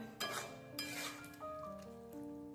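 A spoon scrapes and stirs boiled chana dal in a kadai in two short bursts of scraping, with steady tonal music underneath.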